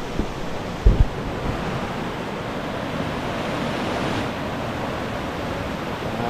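A clear river stream in Tibiao, Antique, runs with a strong current, making a continuous broadband rushing close by, with one brief knock early on and no voices.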